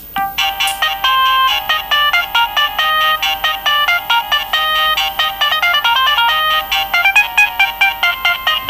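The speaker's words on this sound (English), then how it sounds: "Ringtone number 5." A polyphonic mobile phone ringtone plays a bright, rapid electronic melody of repeated staccato notes, loud and close, running steadily alone with no talking.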